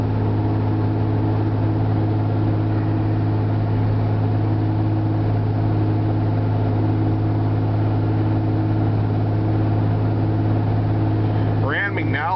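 A diesel truck engine cruising below full throttle while towing gives a steady, loud low drone with layered humming tones that hold unchanged throughout, with a voice talking over it.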